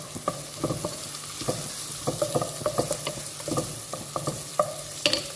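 Onions stirred and frying in a soup pot, with a steady sizzle broken by repeated scraping and clinking stirs across the whole stretch, fairly close.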